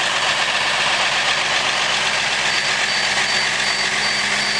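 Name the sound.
1993 bus diesel engine idling after cold start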